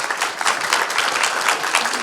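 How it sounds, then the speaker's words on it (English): Audience applause after a scientific talk and before Q&A, dense steady clapping from a crowd throughout, close and continuous with no speech. "how about a round of applause?"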